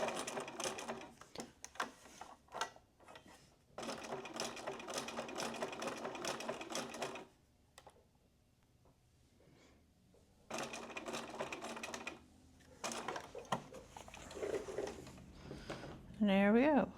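A sewing machine stitches a buttonhole in bursts of rapid, steady needle chatter, stopping for a quiet stretch and then starting again, close-up, with a short squeaky sound at the very end.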